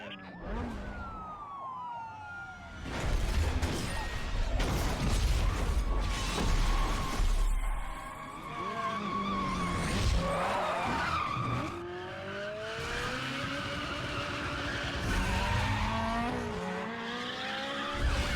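A police pursuit in Need for Speed Most Wanted, with wailing sirens rising and falling, tires skidding and screeching, and engines roaring as cars chase at speed, loud and busy, with a brief radio voice partway through.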